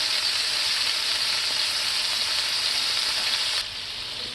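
Onions and a smash burger sizzle loudly on a hot surface, a dense, continuous hiss close by that drops slightly in level near the end.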